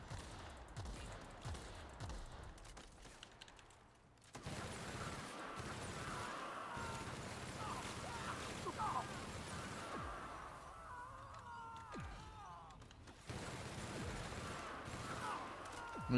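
Gunfire in the video game The Outer Worlds: bursts of rapid shots and crackling impacts repeat across the stretch, fairly continuous over a busy, noisy combat soundscape.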